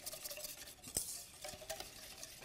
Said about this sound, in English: We're going to mix that in.